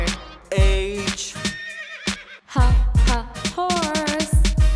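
A horse neighs loudly in several quavering whinnies, set over a bouncy children's song backing with percussive beats.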